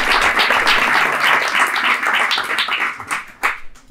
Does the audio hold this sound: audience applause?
yes